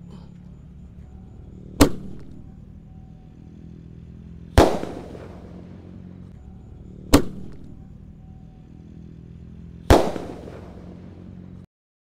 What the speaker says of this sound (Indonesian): Di sini ada Basoka Roman Candle 1 tor. Kita nyalakan ya, Golden EY. Sudah menyala, siap meluncur bosku.